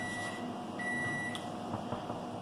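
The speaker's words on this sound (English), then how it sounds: "you just heard my microwave just went off" Microwave oven signalling that it is done, sounding thin, high beeps in a short sequence, faint and somewhat distant over a low room hum, with no voices.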